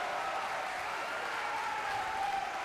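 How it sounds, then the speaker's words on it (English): A wrestling arena crowd applauds steadily in a dense, even wash of clapping, heard from a distance at moderate volume with faint crowd murmur. "The crowd electric,"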